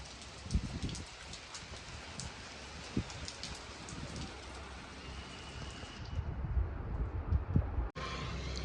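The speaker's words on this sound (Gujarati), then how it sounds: "વરસાદ ચાલુ થઈ ગયો છે." Rain falls outside a house in a steady broadband patter, with heavier splashes and drips building toward the end before a brief break.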